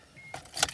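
Car keys jangling briefly, a quick faint metallic chink and rattle close up over quiet background, lasting under a second.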